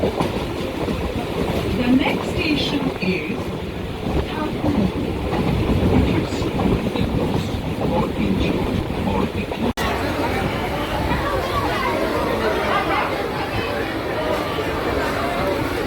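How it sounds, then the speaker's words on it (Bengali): A passenger train leaving Sealdah runs through open countryside, its steady rumble and rhythmic clatter of wheels on rails continuing throughout with some background chatter from passengers. "ট্রেন ছুটছে"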